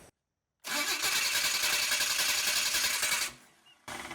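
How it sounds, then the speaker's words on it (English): A worn starter cranks the engine of an abandoned 1968 Chevrolet Impala through a cheater switch, a loud, fast, rhythmic churning lasting nearly three seconds before stopping, followed by a short pause and another burst of cranking. "the cheater switch is still wired up, so I can start it from right here"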